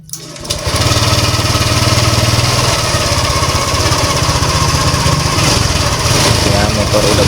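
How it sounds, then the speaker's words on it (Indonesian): A Honda Vario 125/150 scooter with a fault causing stalling and hard starting fires up with a brief crank, then settles into a loud, steady, close-up idle with a rapid pulsing rhythm. "Nah, kita bisa hidupkan motornya."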